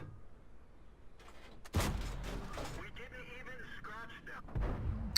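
A tank gun fires in the World of Tanks video game, IKV 90 Type B, a single sharp blast followed by rumbling decay, with someone talking quietly around it.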